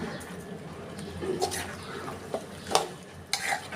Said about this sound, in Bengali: ভালো করে এটা আমি মিশিয়ে নিচ্ছি।